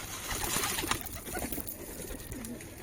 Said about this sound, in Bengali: এই কবুতরগুলো নতুন